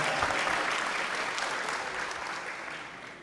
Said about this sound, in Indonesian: Boleh tepuk tangan sekali lagi buat Rahma